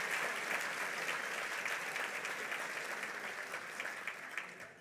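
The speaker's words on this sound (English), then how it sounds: "Let's give them all a big round of applause." A large gala audience applauds steadily for nearly five seconds, a dense, even wash of many hands that fades slightly toward the end, heard at a distance.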